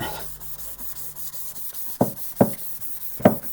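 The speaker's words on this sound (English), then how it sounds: "grabbing the 800 grit and just going over like that" A car headlight lens is hand-sanded with 800 grit sandpaper, giving faint steady rubbing strokes with three sharper scrubbing bursts near the end, close up and with no talk.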